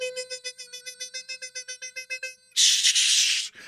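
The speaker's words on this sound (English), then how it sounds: "And they said, Morse code." A run of about twenty rapid electronic beeps in steady rhythm, like Morse code tones, followed by a roughly one-second burst of loud noise, close and clear with no talking.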